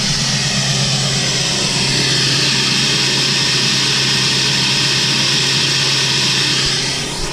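A Ford 7.3 PowerStroke diesel screams at high idle, a loud, steady, unbroken roar with a strong low drone and harsh high-pitched whine held throughout, close by with no talking.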